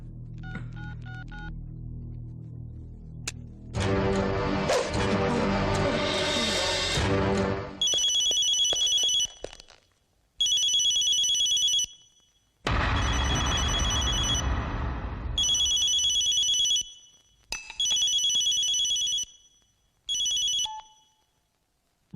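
A telephone rings in a tense film scene, with repeated loud electronic ring bursts separated by short pauses, following a swell of dramatic music and a few dial-like tones at the start.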